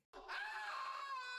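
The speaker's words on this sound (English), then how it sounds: "I forgot about that scream." A single sustained scream from the video game Loom, rising sharply after a brief silence and holding loud and strained to the end, with no talk over it.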